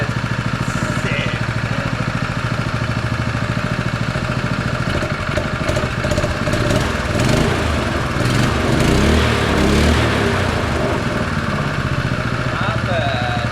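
A small Honda GX200 engine, formerly seized and refreshed, idling steadily close by, a continuous putter that roughens and grows slightly louder midway, with faint voices underneath.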